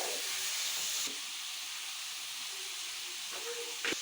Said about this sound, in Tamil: இப்போ தக்காளி வதக்கிறதுக்கும் லைட்டாக உப்பு போட்டால் சீக்கிரம் வதங்கிடும்